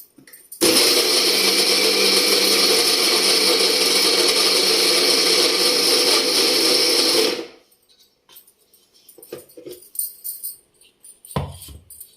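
A kitchen mixer grinder whirs loudly and steadily for about seven seconds while grinding half a kilo of jaggery, then cuts off, followed by faint clatter and handling noises.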